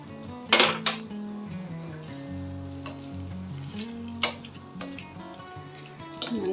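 Ginger, dried red chilli, asafoetida, curry leaves and urad dal stirred in a sizzling pan, with a utensil scraping and clinking against the metal over a steady fry, several sharp knocks.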